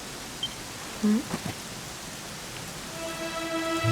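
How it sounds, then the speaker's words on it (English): Steady rain falls throughout a Dragon Quest XI video game cutscene, a soft continuous patter that swells slightly toward the end, with a faint brief voice-like sound near the start. "it was raining like this"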